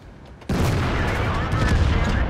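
A tank cannon fires in World of Tanks, a sudden loud blast about halfway through followed by a dense, rumbling roar of battle noise that carries to the end.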